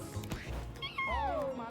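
Cat meowing in the video game Mewgenics: a single drawn-out descending meow following brief game noises, fairly close, with no one talking over it.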